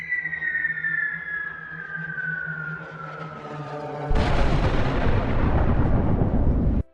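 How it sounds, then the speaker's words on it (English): A high, falling scream of a WWII German dive bomber's siren drones for several seconds, then a loud, roaring blast of noise cuts in and holds until the end. "They had planes that screamed like banshees as they dived."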